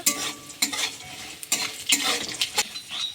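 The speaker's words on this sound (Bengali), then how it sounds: "একটু ভালো করে ভেজে নিতে হবে কাঁঠালের আঠিটা" Jackfruit seeds frying in oil in a pan, sharp repeated scrapes and clinks of a spatula stirring them over a soft sizzle, close and fairly quiet.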